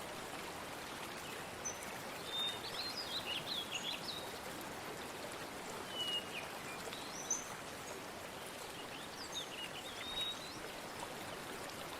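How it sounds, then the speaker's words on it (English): Gentle waterfall flowing with a steady soft rushing wash, while birds sing short chirps and whistled phrases scattered over it, moderately distant and calm. "There's a waterfall flowing gently,"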